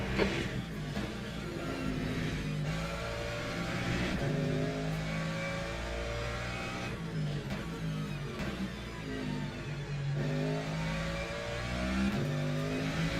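Race car engines in the Le Mans Ultimate sim at Imola drone loudly and continuously, revving up and down through gear shifts as another faster car closes in, with no talk over the engine noise.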